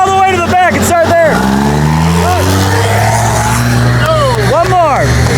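A 900 hp turbo diesel Ford F1 drag truck revs hard on a hot lap, its engine loud and close with rising and falling pitch sweeps over a deep rumble, while a voice talks over it.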